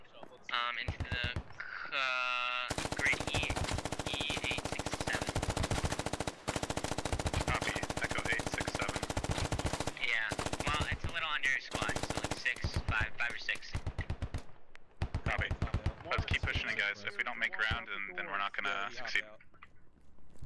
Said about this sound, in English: I can rush up with my MG on full auto.